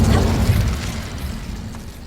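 An Incendio fire spell cast in Hogwarts Legacy, a loud, low whooshing burst that peaks in the first half second, then a rumbling fiery roar that slowly fades over two seconds.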